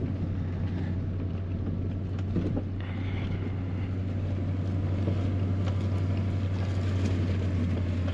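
A pickup truck in four-wheel drive rolls slowly through a wet farm field, its engine a steady low drone with a constant hum, wind buffeting the microphone and faint rustling over it throughout.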